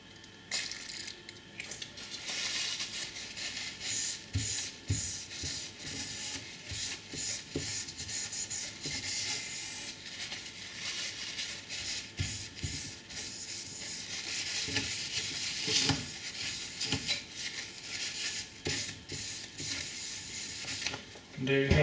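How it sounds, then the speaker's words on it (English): Old thermal paste is rubbed off a Pentium Pro CPU with electronic cleaner, a steady close scrubbing and rasping texture that continues through the whole stretch, with no speech. "Just using some electronic cleaner here, and dissolves most paste very nicely."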